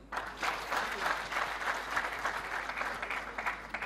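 An audience claps in sustained, even applause for several seconds, a dense patter of many hands heard fairly close and steady throughout.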